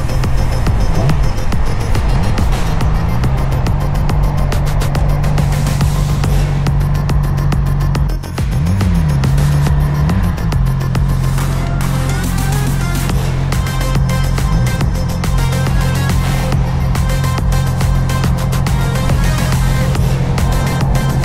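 A new motorcycle's engine runs loud and steady throughout a ride, its drone rising and falling in pitch as the bike shifts and changes speed, with wind noise layered on top.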